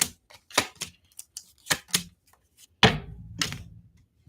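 Crisp riffling bursts of tarot cards being shuffled, several quick flutters then a longer, louder shuffle near the end, close and with no talking.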